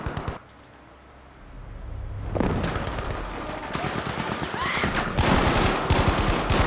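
Rapid automatic gunfire in a first-person shooter game fired into smoke, dense bursts of sharp cracks after a brief quiet lull, mixed with game effects and loud throughout the second half.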